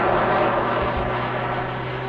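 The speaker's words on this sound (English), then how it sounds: "he will put the aircraft into a flat spin and create the trunk of the tree" Jet Pitts S2S aerobatic aircraft flying at the Sanicole airshow, a steady, loud engine roar with a broad whooshing drone that holds evenly throughout, no voices.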